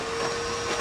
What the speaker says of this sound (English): all you need is a wet dry vac, and I've got a nice new DeWalt air wet dry vac